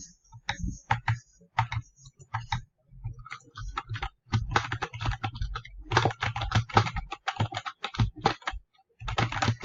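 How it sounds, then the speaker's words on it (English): Loud, fast clacking of a computer keyboard being typed on up close, in bursts with short pauses, no voices. "I'm sorry that my keyboard is loud."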